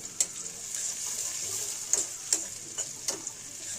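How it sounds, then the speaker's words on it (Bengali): Onions frying in a pan, a continuous close hiss of sizzling oil broken by several sharp spatula scrapes and taps. "এই যে পেঁয়াজগুলো লাল লাল হয়ে আসছে।"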